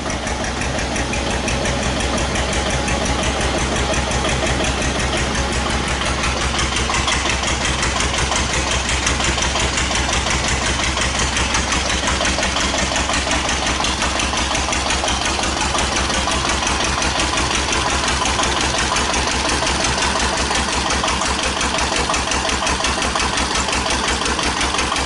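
A 1941 Witte single-cylinder diesel generator, rated 8,000 watts, runs under increased load with a loud, steady, rapid thudding chug that continues evenly and close up, without talking.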